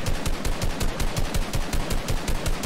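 Rapid automatic gunfire in the video game Fortnite, a fast even burst of repeated shots close and loud, running without pause and with no talk over it.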